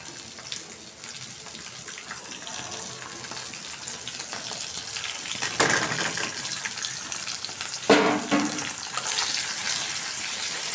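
Dried ground shrimp added to radish greens frying in plenty of oil: a steady close hiss and sizzle throughout, with two louder bursts of crackle as ingredients are stirred or dropped in.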